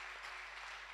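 A church congregation applauding to acclaim Jesus during a French-language sermon, a steady, soft wash of clapping heard at some distance.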